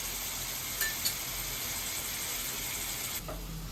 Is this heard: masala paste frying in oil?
yes